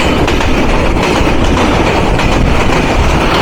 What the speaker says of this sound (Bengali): আমাদেরকে থ্রু পাস করে যাচ্ছে রাজশাহী থেকে ঢাকা অভিমুখী ছিষট্টি একুশ ইএমটি e লোকোমোটিভ দিয়ে আন্তনগর সিল্ক সিটি এক্সপ্রেস